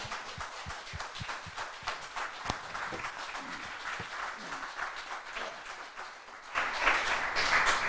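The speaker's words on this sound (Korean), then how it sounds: "우리의 정성과 마음을 모아서 진심으로 우러나는 마음으로 경애의 박수를 보내주시기 바랍니다" Audience applause in a large hall at a Sun Myung Moon gathering, a dense steady wash of many hands that swells louder near the end with some cheering.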